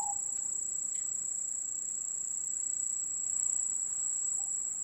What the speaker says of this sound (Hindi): झिंझी लगातार आवाज दे रही थी।